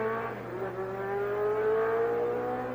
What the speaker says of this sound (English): You may hear the sound of racing engines, but they're warming them up.